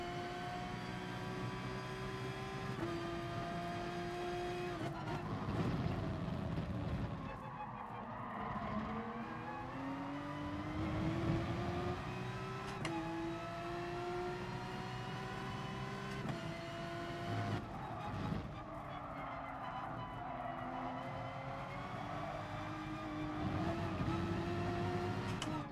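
A Lamborghini race car in the GT Sport racing video game, its engine revving loudly and steadily through the gears with pitch sweeping up and down, tire skids mixed in, heard alone.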